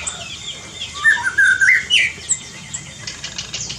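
An oriental magpie-robin sings loud, clear whistled phrases from a perch above a water pond, rising and falling notes close by, with other birds faintly chirping behind.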